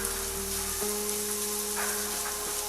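Red Delicious apple pieces sizzle steadily in a hot pan as they are stirred, a continuous close frying hiss over a low constant hum with no talking.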